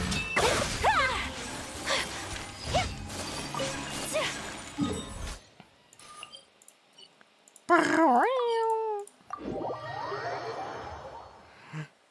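Cartoonish cat meows in Genshin Impact's 2023 summer event, several rising mewing calls near the start and a loud, clear pair around the middle, mixed with whooshes, crashes and game effects.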